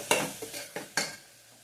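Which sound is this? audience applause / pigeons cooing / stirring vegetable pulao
stirring vegetable pulao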